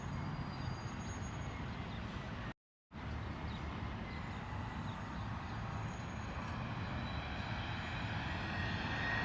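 Jet airliner on approach to Runway 4 at LaGuardia, seen from Queens, New York, a steady broad engine roar that stays constant through the clip, with one brief dropout.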